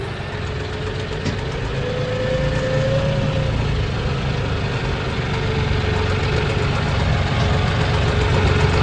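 A tractor engine runs at night, a loud, steady low rumble with a droning hum that holds evenly and slowly swells, close and unbroken throughout.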